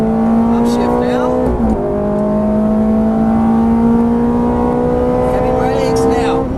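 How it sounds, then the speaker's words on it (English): A Ferrari F430 engine revs loud and near with a sustained howl, its pitch dropping sharply at an upshift before climbing again, while a voice talks over it. "Upshift now."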